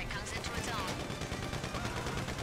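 Rapid gunfire aimed at a helicopter in the video game GTA Online, a dense continuous burst of shots throughout, with players talking over it.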